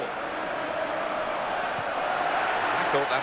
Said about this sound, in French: on entend la foule qui fait toujours du bruit derrière